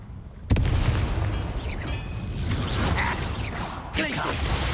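A loud, sudden Confringo explosion spell in the video game Hogwarts Legacy bursts in with a boom, followed by rumbling combat noise and a second sharp hit near the end.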